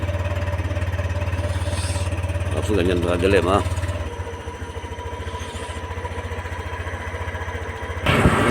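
Motorcycle engine idling while warming up in the dark before dawn, a steady low throbbing drone that drops and steadies after a few seconds, with a person speaking over it partway through.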